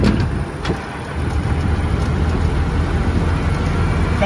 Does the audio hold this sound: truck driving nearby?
yes